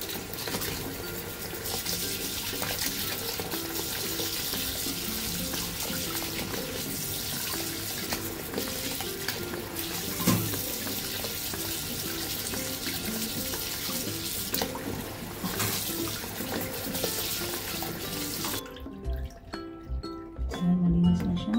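Fresh crabs rinsed in a sink under a steadily running tap, a loud continuous gush of water with splashing as they are handled, cutting off near the end.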